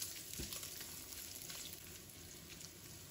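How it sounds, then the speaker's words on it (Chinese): Sliced pork belly sizzles in a wok as ginger and garlic slices are stir-fried in with it, a quiet continuous frying hiss broken by a few brief scraping stirs. "把它翻炒一下"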